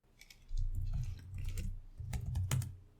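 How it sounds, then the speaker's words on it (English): Clicky typing on a computer keyboard in a quiet room, with a rapid, uneven patter of keystrokes in two bursts, close and fairly soft, with no voices. "Am I typing loud enough?"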